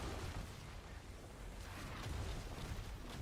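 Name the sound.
explosions in Diablo IV video game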